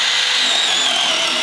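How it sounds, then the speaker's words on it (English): Power drill boring a hole into a wooden railing post for a cable railing install, a steady, loud, high whine held without a break, heard alone. "And drill just about halfway."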